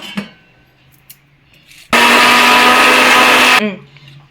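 A kitchen mixer grinder roars loudly for under two seconds while coarsely grinding curry leaves for jowar papad batter. Quiet handling clicks and brief pauses come before it, and the motor winds down after.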